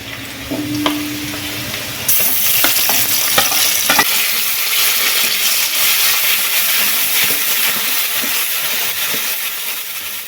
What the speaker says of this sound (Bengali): পেঁয়াজ বেশ লাল লাল করে ভাজা হয়ে গেছে এবার দিয়ে দেব বাটা মশলা